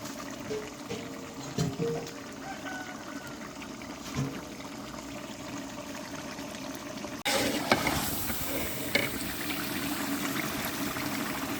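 Water pours into a large pot of Dindigul chicken biryani, a continuous rushing stream that grows louder partway through, with a few clanks of the pot.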